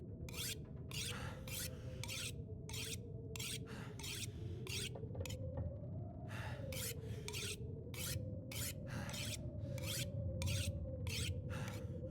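Tools being sharpened in The Long Dark survival game, a regular rhythm of rasping file strokes about twice a second, close and clear over a low droning wind.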